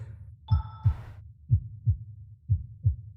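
Heartbeat sounds in a rhythm video game thump in a steady paired lub-dub pattern, low and clear, with a short chime-like tone near the start.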